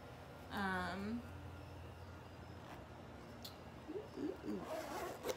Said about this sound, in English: It has a back zip here.